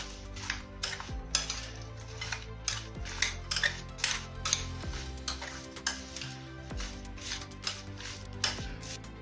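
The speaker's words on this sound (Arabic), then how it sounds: "غادي نخلطوا هاد المكونات مزيان" A spoon or whisk mixes cake ingredients with sugar and cinnamon in a bowl, giving a quick, rhythmic run of clinks and scrapes close by over soft background music.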